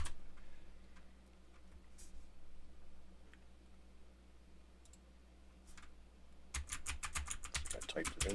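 Someone types a password on a computer keyboard, first a few sparse faint taps over a low electronic hum, then a quick close run of keystrokes at the end.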